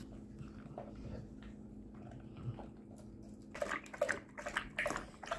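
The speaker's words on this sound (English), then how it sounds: "I change this water constantly all throughout the day because Liam also drinks out of it" Quiet background hum, then a dog laps water from a bowl in quick wet slurps that grow louder and more rapid toward the end.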